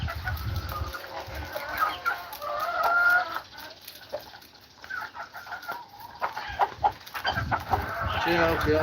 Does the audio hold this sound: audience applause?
no